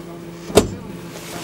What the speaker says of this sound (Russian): Дальше включаем насос номер один